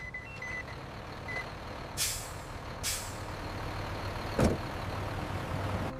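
A specialised truck hauling harvested banana leaves at a leaf processing factory lets out several sharp air brake hisses over a low idling engine, with faint reversing beeps early on, moderately distant.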